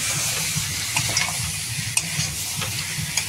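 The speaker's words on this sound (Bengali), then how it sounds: "মাংস রান্না করতে হয় এরকম" Meat cooking in a pan, a continuous close sizzle with faint scraping and stirring taps over a steady hissing bed.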